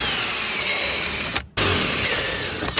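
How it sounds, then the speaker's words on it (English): Power drill boring holes with a 1/4 inch bit, a loud, steady grinding whir close by, briefly stopping for a moment before starting again and running to the end. "It's a 1/4 inch drill bit, and make sure, obviously, anytime you drill, it's lined up exactly where you need it to be."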